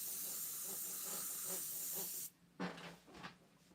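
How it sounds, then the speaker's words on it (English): Spray paint hissing from an aerosol can in a steady, loud continuous burst for about two seconds, then several short sharp bursts, while painting a galaxy-style forest landscape. "I'm going to spray the yellow on top of the blue because it goes green."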